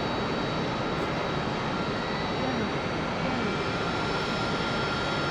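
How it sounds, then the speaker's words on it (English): A jet engine drones steadily in the DCS World flight simulator, a loud, even roar with a high whine that does not change, with no talk over it. "and we'll have our engine start."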